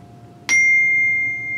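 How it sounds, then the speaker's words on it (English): A struck metal bar on an orchestral keyboard instrument, the glockenspiel, gives a single clear bell-like ding that rings on with a long, pure sustain. "it rings like a bell."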